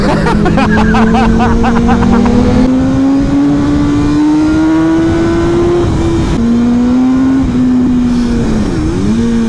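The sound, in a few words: BMW S1000R motorcycle engine revving during a wheelie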